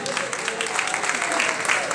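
Applause from a congregation at a healing and miracle service in Pakistan, a short burst of many hands clapping with crowd voices mixed in underneath.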